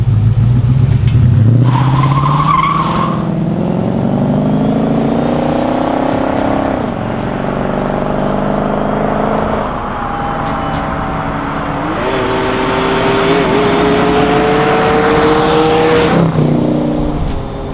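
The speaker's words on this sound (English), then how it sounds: "all you want to do is put your foot down, drop it into low gear, and go." A classic Studebaker's engine revs hard in low gear and climbs through the gears, pitch rising repeatedly with shifts, loud and close, sustained throughout.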